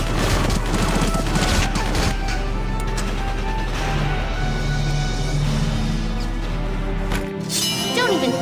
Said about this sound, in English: Watch out for gunfire from your flanks.